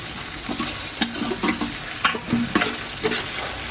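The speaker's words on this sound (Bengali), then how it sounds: "পেঁয়াজটার সাথে আদা রসুনটা একটু ভালো করে মাখিয়ে নিই এবং একটু ভাজা ভাজা করি" Onion with ginger and garlic frying and being stirred in a pan for a Qurbani nehari, a steady sizzle broken by repeated scraping strokes of a spoon, close and fairly loud with no talking.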